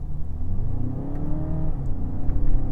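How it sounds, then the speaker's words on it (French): A Mercedes CLA 200 engine revs and accelerates steadily up close, a low droning roar that builds in pitch with no talking over it. "Par contre vous entendez tout de suite le moteur"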